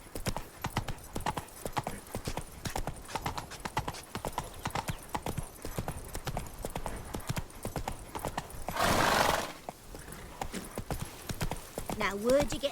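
Roach the horse trots through The Witcher 3 with a quick, even clatter of hooves, a whinny near the end, and voices speaking over the hoofbeats.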